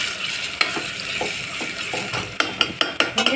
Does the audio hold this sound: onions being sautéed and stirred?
yes